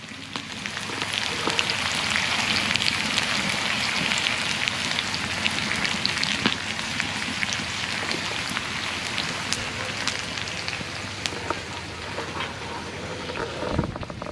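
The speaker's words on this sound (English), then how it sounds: "Listen to those potatoes cook." Potatoes sizzle in a pan over an open firepit, a loud, close, continuous crackling hiss like rain, with scattered sharper pops and a faint voice in places.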